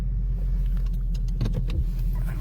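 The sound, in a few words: car engine running while parking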